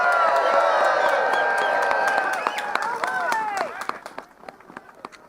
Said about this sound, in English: Please give Woodstock Willie a great round of applause.